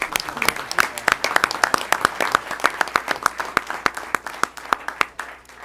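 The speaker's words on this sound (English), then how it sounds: "Let's give them another round of applause." Audience clapping after a choir performance at a city council meeting in Huntsville, a steady run of sharp individual claps over a low room hum, fairly close, fading slightly toward the end.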